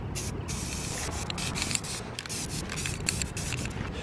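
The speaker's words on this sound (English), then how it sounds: "Go ahead and spray the rocket." Aerosol spray paint hissing in bursts onto a toy rocket, coating it blue; several close, loud sprays with brief pauses between them.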